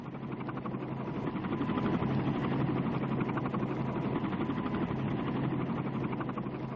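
A military helicopter engine runs with a loud, steady, rumbling whine and rapid rotor throb, continuous and close throughout with no voices.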